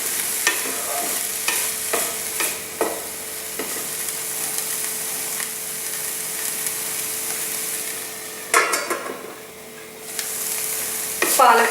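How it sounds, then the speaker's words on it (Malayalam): Palak spinach stirred in a pan on the stove, with soft scraping strokes and a steady low sizzle, plus a few sharper spatula knocks against the metal; no voices. "ഇടയ്ക്കൊന്ന് ഓപ്പൺ ചെയ്ത് നമുക്കിതൊന്ന് ഇളക്കിയിട്ട് കൊടുക്കാം"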